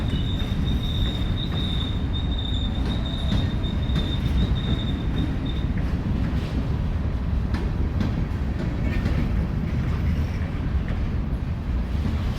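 A northbound CSX freight train of covered hopper cars rolls past close by with a steady, loud rumble of wheels on rail, a thin wheel squeal early on, and some wind buffeting.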